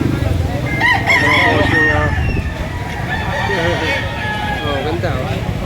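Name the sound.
rooster crowing at a gamefowl market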